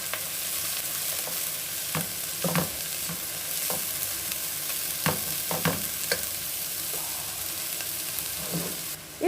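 Onions and chillies sautéing in a pan for semiya pulao: a constant sizzle beneath intermittent scraping strokes of a spoon stirring, each stroke sharp and close, no voices.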